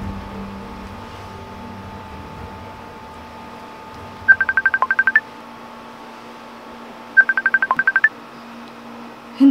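Two quick bursts of touch-tone telephone dialing beeps, each a rapid string of about eight evenly spaced tones, over a quiet room background with a faint steady hum and no talking.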